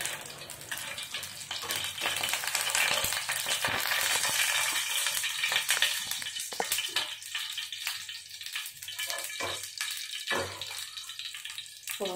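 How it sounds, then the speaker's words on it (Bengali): Green chilli, dried red chilli and nigella seeds fry in hot oil as a tempering for a raw-mango fish curry, giving a close, continuous sizzle with sharp crackles and pops and no talking. "ফোড়নটা একটু ভালো করে ভাজা ভাজা করে নেব।"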